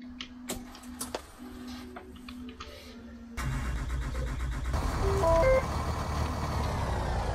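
A 2019 IC CE 300 school bus engine cranks and catches midway, settling into a loud, steady diesel idle after a few quiet clicks and knocks.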